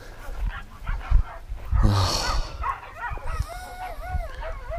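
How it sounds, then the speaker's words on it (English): Rescue dogs bark, yip and whimper inside a moving vehicle on a long cross-country drive, with several close, overlapping calls including a rising whine over the low rumble of the road. "You can hear the dogs."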